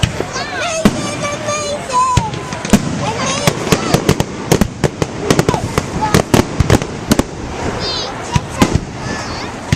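Fireworks crackle and bang in a dense, continuous barrage outdoors, loud and close, with sharp repeated pops and whistles layered over background voices of onlookers.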